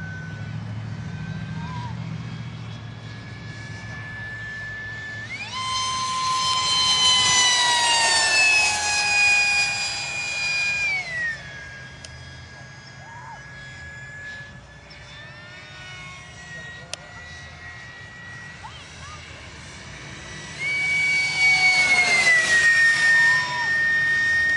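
A Windrider BD-5J jet airplane passes with a loud whining jet engine, its rising and falling pitch sweeping through two strong fly-bys amid quieter stretches, with people talking faintly in between.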